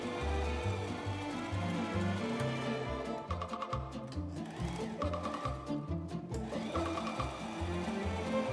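A sewing machine running a straight stay-stitch along the top edge of a backpack panel, its needle hammering in a fast even rhythm, close and loud, with short pauses and changes in speed between runs.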